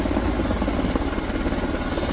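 Helicopters descending to land during a military drill in Charlotte, producing a continuous loud rotor thump and engine roar that holds steady throughout without talk.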